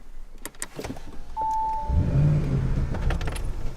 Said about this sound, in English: You hear a little bit of a gurgle as it turns on